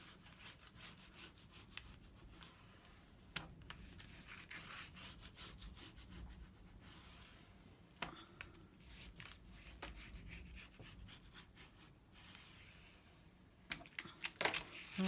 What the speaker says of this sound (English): Don't forget to burnish your tape down.